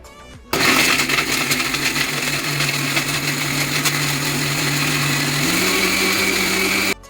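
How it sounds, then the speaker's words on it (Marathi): A mixer grinder whirs loudly as it grinds masala paste for a Malvani-style fish curry, starting abruptly and running at a steady high-pitched whine that shifts slightly in pitch before cutting off. "मिक्सर लावून घेऊ"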